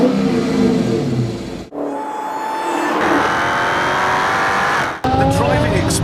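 Loud car engine noise with tire squeal and revving, racing-car character, cutting out sharply partway through and resuming with talk layered over it.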